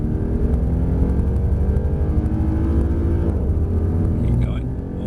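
A Mercedes-Benz C63 Black Series on track with its engine building revs, a loud, continuous low rumble rising steadily, close up from inside the car.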